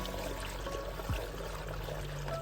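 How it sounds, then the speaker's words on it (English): A bubbling fountain in a small sunken trug wildlife pool in a garden burbles softly and continuously, a faint low trickling under quiet outdoor background. "the bubbling fountain creates moving water"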